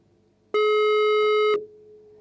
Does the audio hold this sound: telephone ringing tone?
yes